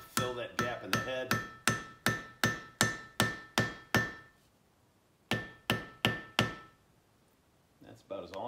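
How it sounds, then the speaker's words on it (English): Sharp metallic hand-hammer strikes drive a wedge into a wooden hammer handle, ringing out in a steady series of about a dozen blows, pausing briefly, then resuming with four more before a faint sound at the end. "I'm going to drive that wedge in using a different hand hammer"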